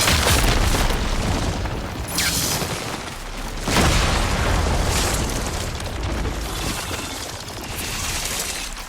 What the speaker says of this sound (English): Hopefully the Kulrut can fire a few shots from that ballista.